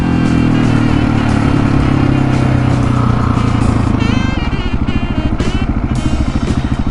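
A KTM 701 Supermoto rides in second gear with a loud, steady single-cylinder engine drone close to the rider, the pitch shifting slightly and then settling into a throbbing pulse.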